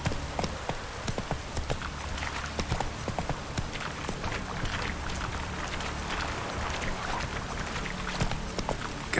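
Horse hooves clip-clopping steadily in The Witcher 3, a brisk continuous trot over ground with rain-like ambient noise, loud and close with no talking.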